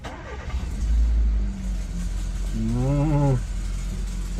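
A Hummer H1 engine cranks and catches, settling into a rough, throaty idle with a brief rise in revs, loud and close with no talking.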